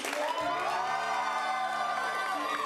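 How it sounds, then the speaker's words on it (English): Audience at an improv comedy show cheers and applauds in a steady crowd roar with whoops, carrying on evenly at moderate level with music sustained beneath it. "So let's start that round of applause"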